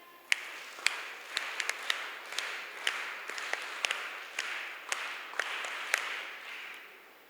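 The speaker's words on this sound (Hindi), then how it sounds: "हम सब एक बार करतल ध्वनि से उनको, उनके सम्मान में उनको विदा करते हुए वीरांगना ताली" Light, scattered applause from a small group at a girls' character-building and self-defence training camp, honouring a departing guest; sparse claps with a few sharp louder ones, steady and moderately distant.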